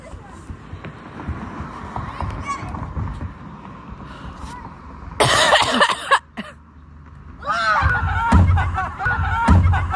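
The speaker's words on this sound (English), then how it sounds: "I'm gonna cough." A person coughs in two rough, close bursts midway and near the end, used as a signal, with other voices talking around them.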